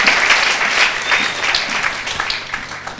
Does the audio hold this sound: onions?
no